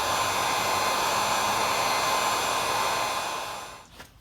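A heat gun blows hot air in a steady, loud broadband rush that holds for several seconds and then cuts off, with no voices.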